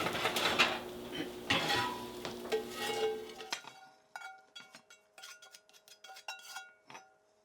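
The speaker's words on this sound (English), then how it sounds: "I'm just going to spread that around evenly into the bottom of our dish" A utensil scrapes and taps against a casserole dish while riced cauliflower is spread in a thin layer, a run of close scraping strokes followed by lighter, scattered clinks.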